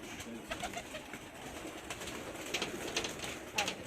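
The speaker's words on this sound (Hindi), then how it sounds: "ये 7 कबूतर हैं ये उस्ताद अजहर गुराया साहब के कबूतर" Racing pigeons coo softly after landing at a loft, their calls repeated in a loose rhythm, faint to moderate and close by.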